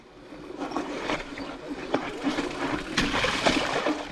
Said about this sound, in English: It's the first puddle I've hit.